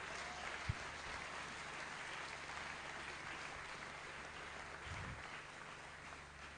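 A church congregation applauds steadily throughout, a soft, diffuse wash of clapping heard at a distance with no speech over it.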